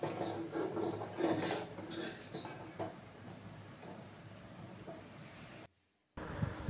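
Thick semai dessert is stirred continuously in a pan with rhythmic, close rasping and scraping along the pan base. A brief silent gap comes near the end before the stirring resumes.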